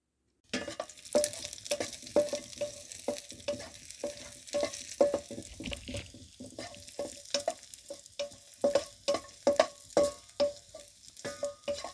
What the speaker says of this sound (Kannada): ಇದಕ್ಕೆ ಇನ್ನು ದ್ರಾಕ್ಷಿ ಹಾಗೂ ಗೋಡಂಬಿಯನ್ನು ಹಾಕ್ತಿದ್ದೇನೆ. ಚೆಂದ ಫ್ರೈ ಮಾಡಬೇಕು ಇದನ್ನು.